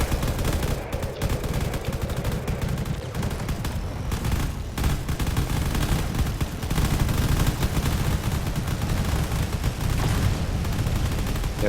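Heavy sustained gunfire pounds a carrier in the space strategy game Drone Wars, a loud continuous barrage of rapid shots and impacts with no letup and no voices.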